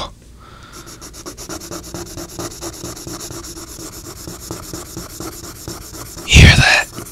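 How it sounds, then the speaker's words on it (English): Pencil graphite scratches across paper in quick rhythmic strokes, a close, crisp rubbing that repeats steadily, then a brief louder burst of rustling near the end. "That's the sound of the graphite. The lead going onto the paper."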